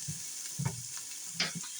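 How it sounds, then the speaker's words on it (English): Garlic frying in a pan, a low steady sizzle running throughout with a couple of brief louder stirring bursts, no voices. "I'm going to let that cook for about a minute or two. Let the garlic get fragrant."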